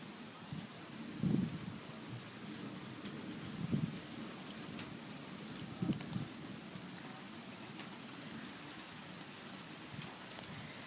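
A thunderstorm drops steady rain with very small hail, a constant close wash of drops broken by three or four low rolling rumbles of thunder, with no voices.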